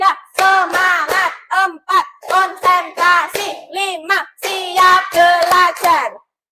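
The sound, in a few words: group clapping in rhythm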